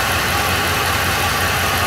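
A car engine idles steadily after an oil pressure sensor change, a smooth continuous low hum with a faint even rhythm and no voices.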